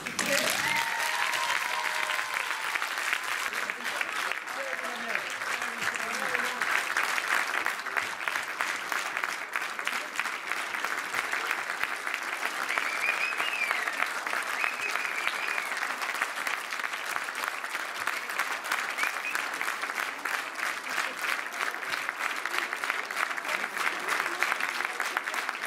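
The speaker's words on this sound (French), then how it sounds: "Maintenant, je vais vous demander vos plus beaux applaudissements." Audience applause after a stage show of singers: a long, dense, even wash of clapping from a crowd that holds steady throughout, with faint voices mixed in.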